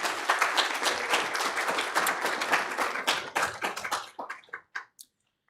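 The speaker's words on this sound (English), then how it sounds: "Give them a big round of applause." An audience in a hall claps for award presenters, dense applause holding steady before thinning into scattered individual claps and fading out.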